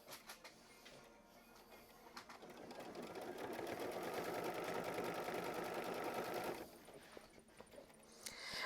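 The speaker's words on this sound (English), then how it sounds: "we're going to sew machine stitch step 5 to tack it down" A sewing machine runs a tacking stitch through a piece of fabric, a steady mechanical whir that rises and holds for several seconds, then stops, with a few lighter clicks after.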